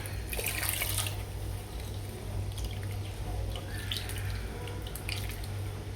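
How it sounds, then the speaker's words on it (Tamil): Water poured by hand into a pot of Kongu-style horse gram rasam with mashed tomatoes, about half a litre, a steady close splashing trickle over low background hum. "இப்போ ரசத்துக்கு வேணுங்கிற தண்ணி ஒரு அரை லிட்ரு போல் நான் ஊற்றிக்கிறேன்"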